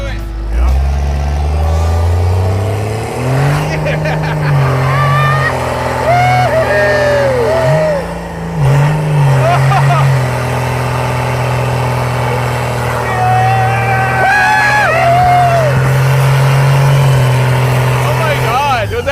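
A Cadillac with a swapped Cummins diesel engine drives and accelerates, its loud, steady low drone rising and falling in pitch through gear changes. People talk and exclaim over it throughout.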